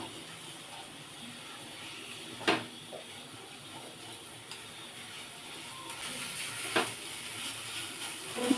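Ginger-garlic paste and chopped green chilli with salt sautéing in a pan, a soft steady sizzle and hiss with a few sharp utensil scrapes and clinks against the pan.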